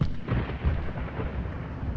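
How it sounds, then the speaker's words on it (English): Thunder rumbles continuously and loudly through the whole stretch, a deep rolling low-end roar with no voices over it. "You know you're nervous when the thunder makes you jump."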